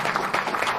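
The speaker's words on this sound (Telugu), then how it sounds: "చప్పట్లు కొట్టి దేవుడిని మహిమపరుద్దాం." A church congregation claps their hands together in praise, a brief burst of steady, fairly loud applause.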